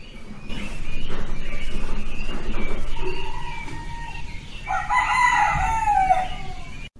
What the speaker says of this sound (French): Des chants d'oiseaux dans une fraîcheur matinale